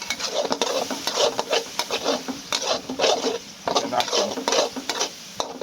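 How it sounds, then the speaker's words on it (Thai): Rapid stir-frying of egg, long beans, basil and dried chilies in a pan, with a spatula scraping rhythmically over a loud continuous sizzle close up. "ผัดให้สุ่วสุกแบบพี่บี"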